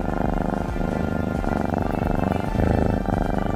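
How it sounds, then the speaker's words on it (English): A cat purring steadily and close by, a continuous low rumbling drone with a regular pulsing rhythm, loud and unbroken for the whole stretch with no talking. "It actually makes me want to purr."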